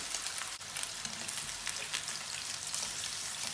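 Meatballs for a Turkish saucy köfte sizzle and crackle steadily in a hot pan over high heat, a continuous close, moderately loud frying hiss with no talk.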